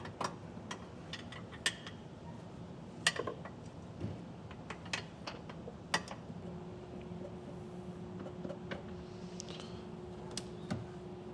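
Tool work removing nuts under a 2024 BMW while fitting an EcoHitch Stealth trailer hitch: faint scattered metallic ticks and clicks of a ratchet and wrench against a quiet background hum. No talking.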